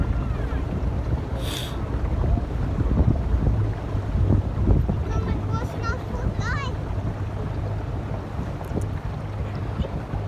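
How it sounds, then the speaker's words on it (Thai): A motorboat engine drones steadily over the sea near an island in Norway, with wind buffeting the microphone and splashing waves; voices speak now and then. "พี่เบลาขับเรือนะคะ"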